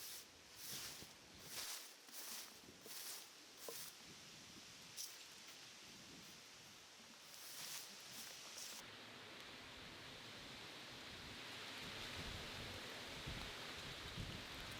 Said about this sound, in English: there is a lovely rain shower